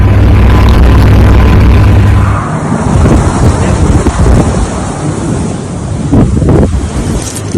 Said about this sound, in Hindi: बर्फीला तूफान।